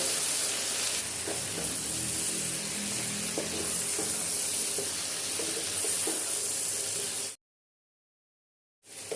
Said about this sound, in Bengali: দিয়ে একটু সবজিগুলো সব নেড়ে মিশিয়ে নেব।